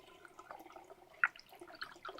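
Water poured into thick blackberry juice in a fermentation vessel for country wine, a faint, close trickle with small drips and one brief splash.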